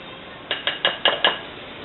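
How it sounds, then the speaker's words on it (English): Eggs being mixed into banana bread batter in a bowl: five quick, evenly spaced clinking taps of a utensil against the bowl, close and clear with no talk. "So I'm just going to mix in my eggs."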